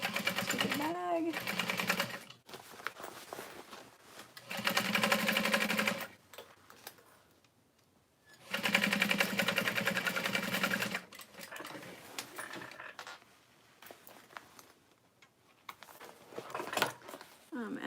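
A sewing machine stitches handles onto a tote bag, running in several sustained whirring bursts of a few seconds each with pauses between, while a person talks in the gaps.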